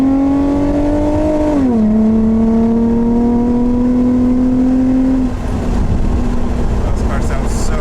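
An Infiniti G35 with about $20K of modifications drones through its exhaust in second gear, a loud steady engine tone that dips at a shift and then climbs slowly, heard from inside the car with cabin rumble.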